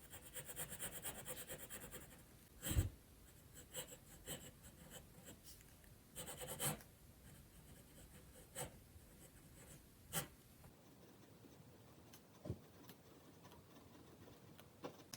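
A fountain pen with an extra fine nib scratches softly across paper while swatching Robert Oster ink, with faint rubbing strokes and occasional small taps and knocks in an otherwise quiet room.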